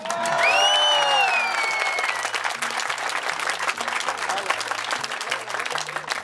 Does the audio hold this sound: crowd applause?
yes